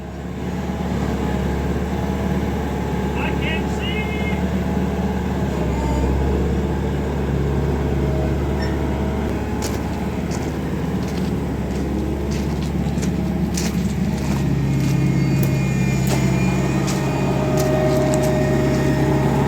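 Dump truck engine idling and revving steadily while nudging a Plymouth 8-ton Hercules locomotive, a continuous loud rumble with scattered metallic knocks and clanks from the rail equipment.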